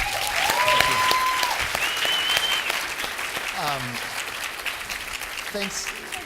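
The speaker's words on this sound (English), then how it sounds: "Could we have a round of applause for the whole panel" Sustained audience applause for a panel fills the room, a broad steady clatter of many hands with scattered voices and cheers rising over it before it gradually thins.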